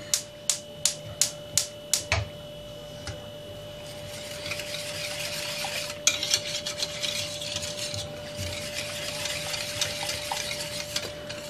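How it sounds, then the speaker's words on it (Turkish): A whisk stirs milk in a pot for a marble cake pudding, opening with a few sharp metallic taps on the rim, then settling into soft continuous scraping and swishing close by. "3 su bardağı sütümü de ilave ediyorum. Çırpıcıyla güzelce karıştıralım."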